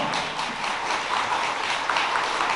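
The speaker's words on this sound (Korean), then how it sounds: "두 사람에게 큰 박수 부탁드립니다" Wedding guests in a convention hall applaud the newly declared couple, a dense, continuous burst of many hands clapping at steady volume throughout.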